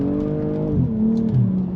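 A BMW M240i xDrive accelerates hard out of a corner, the engine note loud and close, dipping and then climbing again as the throttle opens.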